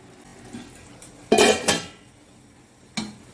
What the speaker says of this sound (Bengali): এবার আমি খানিকক্ষণের জন্য একটু ঢেকে রাখছি